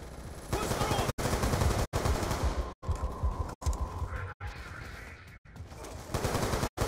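Rapid automatic gunfire from the video game Black Ops 2, loud and close, in sustained bursts broken by several abrupt dead-silent cuts, with faint voices under the shooting.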